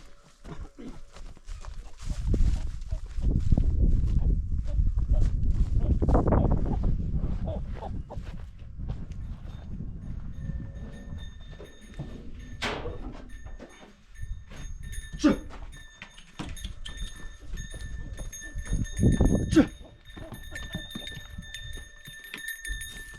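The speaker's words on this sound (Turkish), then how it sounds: "Hadi eşeğimizi ahırdan çıkaralım." A donkey led out of a barn at a highland pasture, with hoof clip-clops and shuffling on the ground mixed with livestock noise, nearby and moderately loud, plus a few sharp bird-like calls over a steady high hum.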